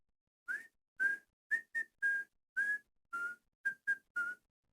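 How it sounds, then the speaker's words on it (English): A person whistles the Kill Bill tune alone: about ten clear, short, tonal notes in a halting rhythm, each separated by brief silences, close and moderately loud. "while I'm whistling."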